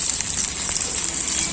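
Potatoes frying in a pan while a Bhedailota (skunk vine) and Narasingha leaf curry is being made, giving a steady, close, even sizzle with a bright crackling hiss throughout and no voices.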